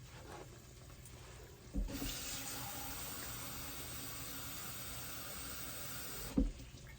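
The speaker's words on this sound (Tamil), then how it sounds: "இப்போ தண்ணி ஊற்றி கொள்கிறேன்" Water pours steadily into a cooking pot for tomato shrimp curry for about four seconds, a smooth rushing hiss that begins and ends with a soft knock, fairly quiet.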